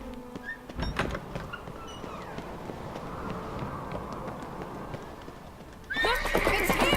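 Hooves clop and a horse whinnies loudly in The Witcher 3, with a sharp knock at the start, steady hoofbeats through the middle, and a bright neigh at the end.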